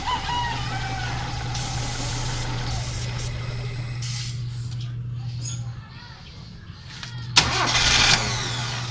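A car engine with a faulty PCV valve cranks and struggles to start, with a steady low drone, bursts of hissing spray-like noise and a sharp catch near the end.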